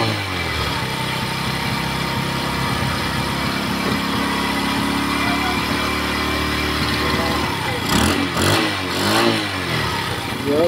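A Rusi Delta motorcycle engine runs steadily after starting, with a continuous near, loud drone that drops off around the eighth second into a few sharp bursts and scrapes.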